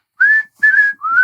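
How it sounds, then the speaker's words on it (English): Three whistled notes in a bright, clear melody, each held steadily with short gaps between, sounding close and fairly loud with no voices. "I do like that these are all just like earworm whistling songs."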